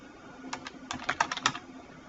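Computer keyboard typing as text is entered into an Excel spreadsheet: a quick run of about ten close, light key clicks in an uneven rhythm, with a short pause near the start, and no talking.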